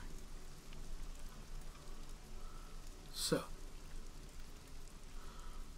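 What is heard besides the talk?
rain falling on a barn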